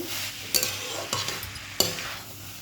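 Potatoes and peas sautéed in a pan for ghughni give a close, soft sizzle, with three distinct spatula scrapes and knocks against the pan.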